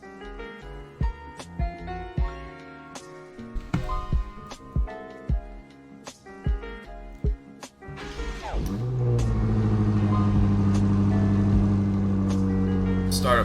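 Car in the Roblox-style video game Driving Empire starting up, with a spell of music and clicks before a steady engine idle hum takes over and holds.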